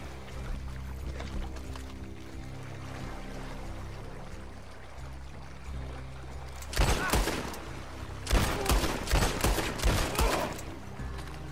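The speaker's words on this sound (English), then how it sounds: "There's people out here shooting at us." Gunfire in the Red Dead Redemption Online video game, a quiet ambient stretch giving way to loud bursts of rapid shots in two clusters, with faint voices in the background.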